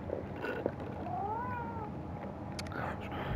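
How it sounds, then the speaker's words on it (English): A cat gives a single soft, rising meow close by, heard over a steady background hum with a few faint clicks. "Hey, climb up here, cat."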